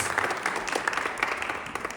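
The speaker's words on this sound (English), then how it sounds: "So, yes, you can clap for that." Audience applause breaks out at a church-sponsored program event, a steady wash of many hands clapping at moderate loudness for about two seconds, without pauses.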